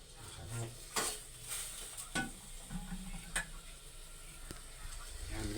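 Pork topping for pinakbet frying in a pan, a steady close sizzle with sharp clicks and scrapes of stirring mixed in.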